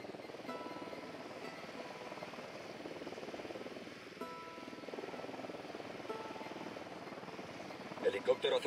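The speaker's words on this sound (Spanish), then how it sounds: "Helicóptero acercándose." Helicopter approaching in the Ghost Recon video game, a steady rotor drone that holds evenly throughout at moderate distance, with a few sharper game sounds at the end.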